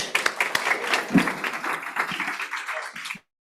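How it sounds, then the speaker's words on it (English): Audience applause welcoming a founder at a startup pitch night, a lively round of clapping with a few sharp close claps and shouts, tapering off before cutting to near silence at the end. "we're going to give him a round of applause and a warm welcome."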